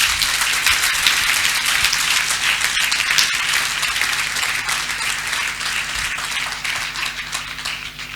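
A crowd at a Salon FERIN 2022 gathering applauds the mayor, steady dense clapping that holds loud and even for several seconds before easing slightly.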